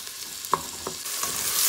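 Onions frying in hot coconut oil, a steady close sizzle with a few soft stirring scrapes and no voices.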